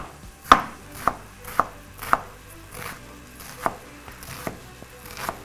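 Knife chopping onions on a board for the Turkish aubergine dish imam bayildi, about nine crisp, close strikes at an uneven pace with quiet gaps between them and no talking.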